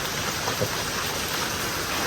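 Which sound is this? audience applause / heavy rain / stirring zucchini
heavy rain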